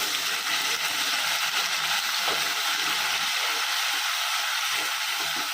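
Ginger garlic paste fries in a pan with a steady, close hiss and sizzle that holds evenly throughout, alone with no talk.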